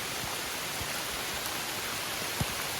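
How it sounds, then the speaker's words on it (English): Heavy monsoon rain pours down along the Appalachian Trail in Pennsylvania, a dense, steady hiss close around with a few sharper drops hitting nearby surfaces. "Monsoon for about an hour."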